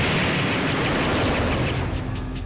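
Turrets in Robotech: Battlecry fire in a dense, continuous barrage of rapid shots, loud and close, with no pause across the stretch.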